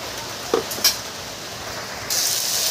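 Spices dropped into ghugni, a spiced yellow-pea curry, frying in a pan: a couple of soft taps and stirs, then a steady loud sizzle and hiss that swells up and keeps going, with no talking.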